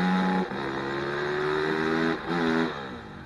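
Kawasaki ATV engine in the MX vs ATV Untamed racing game, a steady buzzing drone that rises and shifts pitch between gear changes, loud and continuous with no talk.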